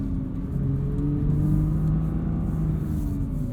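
A 2021 Nissan GT-R Premium engine droning and rumbling from inside the cabin on a winter drive, a deep steady roar with rising pitch as the twin-turbo V6 pulls, no voices over it.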